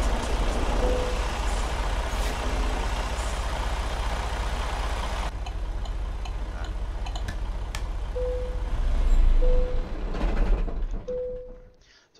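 A heavy truck engine drones steadily in American Truck Simulator, with short tonal beeps and faint ticking over the rumble and a brief louder swell of engine noise near the end before it fades out.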